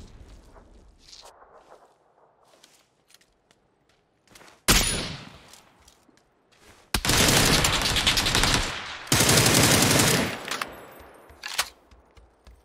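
Bursts of rapid gunfire in the video game PUBG, with sharp, loud blasts, sustained automatic fire from a Beryl assault rifle in two long volleys amid scattered quieter shots.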